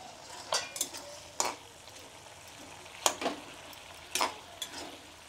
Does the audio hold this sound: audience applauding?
no